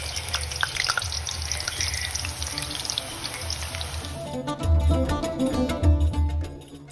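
Battered potato spirals drop into hot oil and fry with a steady, close hissing sizzle that grows louder and busier partway through, alone without talk.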